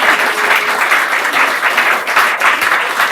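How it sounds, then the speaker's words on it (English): A studio audience of media school students claps steadily for itself, a dense, loud wash of applause held for several seconds. "Clap for yourselves there."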